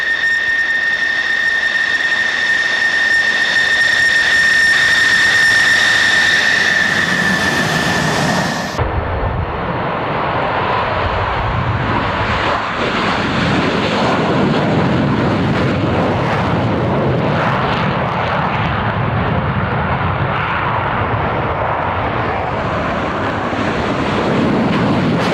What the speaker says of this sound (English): F-14 Tomcats from the United States Navy.